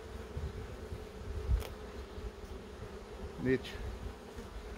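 Honeybees in a hive give a low, steady buzzing hum under faint background noise, with a couple of brief knocks and clicks, and someone says a single word.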